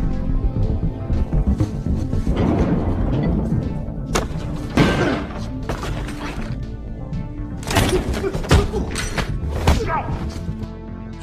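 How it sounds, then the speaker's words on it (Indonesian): A warehouse blows up in an action film, with several heavy booms and crashing bursts over a dense, rumbling soundtrack. The loudest blasts come in clusters. "gudang itu pun meledak"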